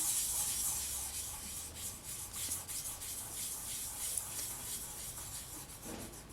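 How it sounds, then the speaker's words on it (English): A finger rubs and burnishes a polymer clay veneer in a steady, soft, close-up scraping rhythm, with repeated brushing strokes and no talking. "Just rub and burnish it on."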